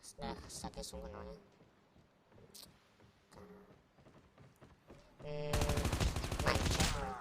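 Rapid automatic gunfire in Call of Duty Mobile during a counter-terrorism multiplayer match, a dense sustained burst in the last couple of seconds following scattered game sounds and a man's speech.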